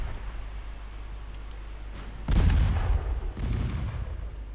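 Torpedo hits strike warships in the naval game Ultimate Admiral: Dreadnoughts, a heavy low boom bursting in then rumbling on, followed by a second rolling impact over steady sea-battle ambience.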